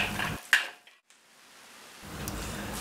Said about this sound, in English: Stir and mix with the sauté ingredients.